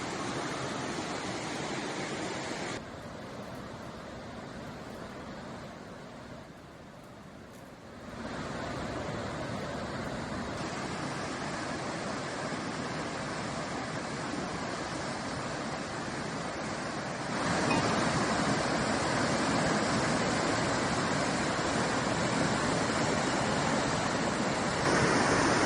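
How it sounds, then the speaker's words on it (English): The flooded Tawi River in Jammu rushes in spate after overnight rain, a dense, steady roar of turbulent water that runs unbroken throughout, dips briefly, then grows louder and fuller toward the end, with no talk. "The river is in spate as the water level rose due to overnight rainfall."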